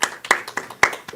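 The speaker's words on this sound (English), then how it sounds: "let's give them a round of applause as well" A handful of separate, crisp hand claps from an audience acknowledging a tech crew, coming in an uneven, sparse rhythm over about a second.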